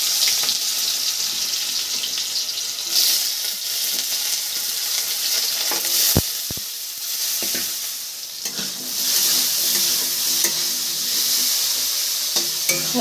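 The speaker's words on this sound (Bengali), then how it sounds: "দিয়ে দিয়েছি কালো জিরে, আর কড়াইটা একটু বেশি আর কি তেতে গেছে" Nigella seeds crackle and fry in an overheated wok, a steady loud hiss of sizzling with stirring scrapes and a couple of sharp clicks midway, no voices.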